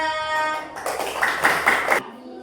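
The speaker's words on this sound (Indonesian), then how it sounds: "tepuk tangan untuk kelompok 3" Short round of clapping from a small classroom group for a presentation group, a few loud claps near the mic over a brief spell, preceded by a tonal sound.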